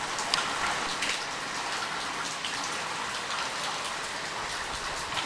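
Steady rain falls with a little wind during Tropical Storm Andrea, a dense continuous hiss of drops close by and even in loudness throughout, with no voices.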